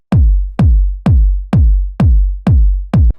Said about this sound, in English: It's this more like 909 style kick,